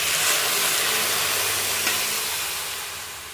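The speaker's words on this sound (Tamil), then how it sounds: "கொஞ்சம் தண்ணியும் ஊற்றி" Water poured into a hot pan of jackfruit and boiled jackfruit seeds, giving a steady loud hiss of steam and sizzle that slowly fades toward the end.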